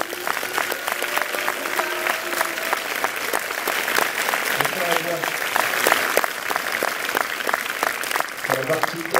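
An audience in a UGC cinema applauds the director at a film preview screening, the dense clapping running continuously while voices and cheers rise over it at intervals.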